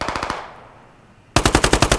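Automatic rifle fire in the military shooter Squad: a rapid burst of close, loud shots fading into a reverberant tail, then another sharp burst of evenly spaced rounds after a brief lull.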